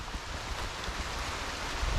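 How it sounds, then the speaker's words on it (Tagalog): Steady outdoor rain falling, an even hiss of drops on surfaces with no breaks, moderately faint and constant throughout. "Ayan na ang ulan."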